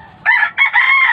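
A rooster crows once, loud and close, in a short clipped burst broken into two parts.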